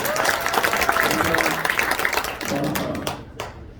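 Applause from an audience at a Korean presidential candidate's speech, steady clapping throughout with a murmur of crowd voices, tapering off near the end.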